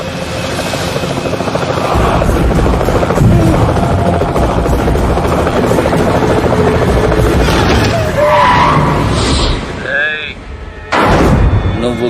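A helicopter roars loudly and close in a Telugu film scene, its steady rotor thrum filling the track, with heavy thumps and someone talking over the noise before it cuts off briefly near the end.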